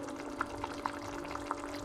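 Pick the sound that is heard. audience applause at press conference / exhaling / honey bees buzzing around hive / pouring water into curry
pouring water into curry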